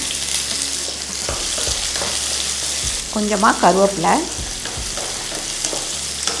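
Steady crackling sizzle of chopped onions frying in hot oil, with a brief burst of stirring or scraping in the middle while a voice speaks briefly.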